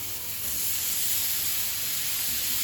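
Butter sizzling in a hot pan alongside golden-brown beef steaks, a steady close frying hiss that holds evenly throughout with no talk.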